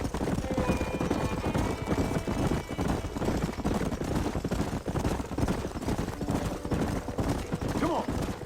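Horses galloping and whinnying in the video game Red Dead Redemption, a dense continuous patter of hoofbeats with occasional neighs, close and busy, with gunfire and background activity mixed in.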